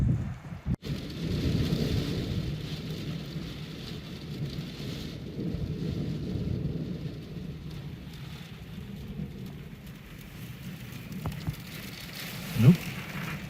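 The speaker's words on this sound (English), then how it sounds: "and here comes the rain" Heavy rain with hail during a rally drive, a dense steady roar of downpour with a sharp crack near the start and a brief rumble of thunder toward the end, no talk.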